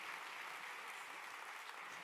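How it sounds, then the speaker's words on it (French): Faint, steady applause from an audience at a business awards round-table event in Côte-d'Or, a soft even wash of clapping heard from a distance with no talk. "on peut les applaudir"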